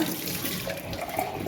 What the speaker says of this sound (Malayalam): ഇതിൻ്റെ വെള്ളം മാറ്റി പച്ചവെള്ളം ഒഴിക്കാം